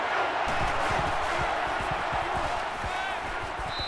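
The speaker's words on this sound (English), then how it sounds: "This crowd can really be intimidating for an opposing team." Stadium crowd noise from the NCAA Football 14 video game at Florida, a constant loud, dense roar of voices with faint thumps underneath and a brief high whistle-like tone near the end.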